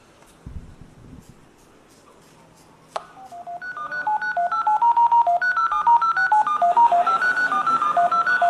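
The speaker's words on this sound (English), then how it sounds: "we've successfully gotten it to make a phone call to a number that we chose" A rapid run of touch-tone dialing beeps as a phone places a call to a chosen number, loud and evenly paced after a brief knock and a click, with faint background talk.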